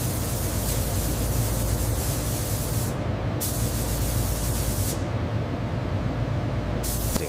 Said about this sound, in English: The spray gantry applies it in a single, perfect pass at a 30-degree angle, creating a dry coat.